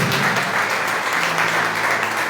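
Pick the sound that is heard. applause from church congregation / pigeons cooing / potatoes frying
applause from church congregation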